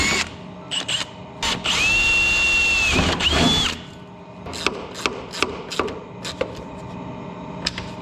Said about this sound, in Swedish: så jag ska borra rätt igenom